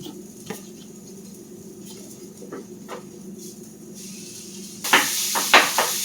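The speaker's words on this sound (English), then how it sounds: "Alright, so these onions are pretty much cooked. We're gonna throw in the ground beef." Ground beef dropped into a pan of cooked onions for chili, soft sizzling under a hum, then a louder burst of frying hiss and scraping utensil clatter near the end.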